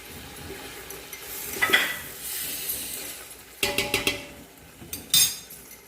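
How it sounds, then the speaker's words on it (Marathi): Spices sautéed and stirred in a pan for pav bhaji over medium flame, soft sizzling under repeated scraping and clinking of a metal spoon against the pan in short bursts. "आपले मसाले छान परतवून घ्यायचे आणि मीडियम गॅस करायचे"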